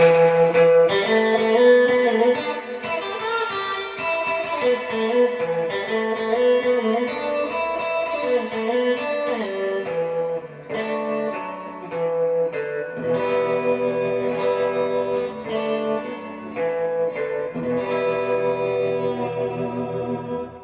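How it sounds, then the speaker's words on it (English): A Gretsch Electromatic G5420 electric guitar rings out chords with a pulsing tremolo and splashy spring reverb, played alone with a twangy, surf-style tone. "when you turn on the tremolo and you're on these two, it sounds a bit like"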